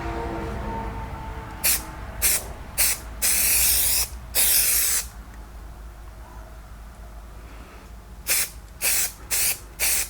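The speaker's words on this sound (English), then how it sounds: "I'm going to spray the half, or at least this backside" Aerosol spray hissing onto the backside of an MGA car door in short bursts, then one long continuous blast and a quick run of brief puffs, close and sharp over a quiet room.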